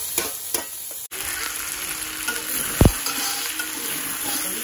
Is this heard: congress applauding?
no